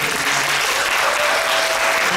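Lecture audience at a university book forum applauding a speaker, loud dense clapping filling the whole moment without a break.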